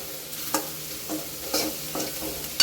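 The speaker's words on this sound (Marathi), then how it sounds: "आपण गिलके पूर्ण फोडणीमध्ये टाकून घेतलेलं आहे. ते बघू शकता त्याला छान असं परतून घ्यायचं आहे." Ridge gourd stir-fried in a spiced tempering gives a soft continuous sizzle, punctuated by several spatula scrapes and taps against the pan, fairly close and without talk.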